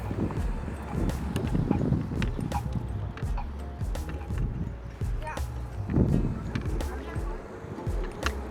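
Gusty wind buffets the microphone outdoors during an e-bike city tour in Munich, rumbling and uneven under scattered city noise and occasional voices.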